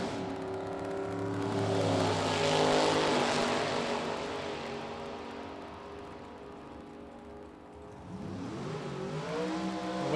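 Drag race cars launch down the strip at a Class Racers Revival event, a loud, sustained engine roar that swells and then fades before a second engine rises near the end.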